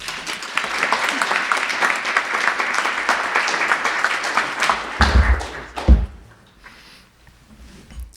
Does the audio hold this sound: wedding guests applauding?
yes